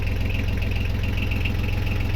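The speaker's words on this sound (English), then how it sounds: "That's with the engine cover off, and listen, it's not even loud at all." A boat engine idles with its cover off, giving a steady, even, low throbbing rumble. It is fairly close and runs alone without interruption.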